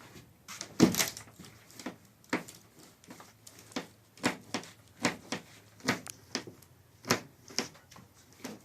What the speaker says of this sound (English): The floor is extremely unstable, as I probably hear it creaking.